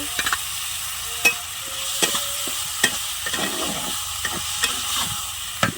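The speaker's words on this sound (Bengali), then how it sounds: "বেগুনটা দিলাম, বেগুন ভাজা" Eggplant sizzles in a pan with spices while a spatula scrapes and taps the metal at irregular intervals, close by and clear.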